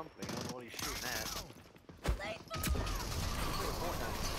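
Gunfire in the shooter game Rogue Company, a burst of shots and a sharp loud crack near the middle amid busy game noise, with someone talking over part of it.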